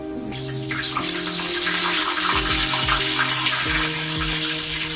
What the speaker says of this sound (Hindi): यहाँ मैं जो तड़का लगा रहा हूँ वो प्याज का लगा रहा हूँ